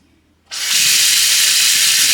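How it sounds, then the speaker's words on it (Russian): Water suddenly starts gushing from a tap into a sink after a brief quiet moment, a steady loud hissing stream close by. "Так, пускаем воду."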